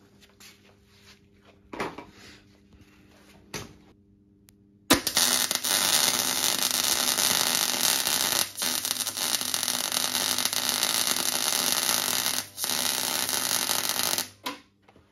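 Tack welding on a Dana 60 rear axle housing being narrowed: a couple of brief clicks and pops, then a loud, steady crackling hiss of the welding arc lasting about ten seconds with one short break, close and with no speech.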